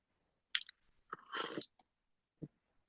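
Close crunchy chewing of crackers, a few crisp bites and a longer grinding crunch, with quiet pauses between.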